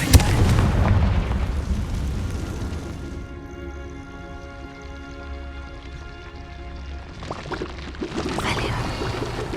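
A Confringo blasting spell explodes in Hogwarts Legacy, opening with loud bursts and booms over a rumbling game soundscape, easing into a sustained tonal hum, then flaring with further crackling impacts near the end. Voices murmur beneath.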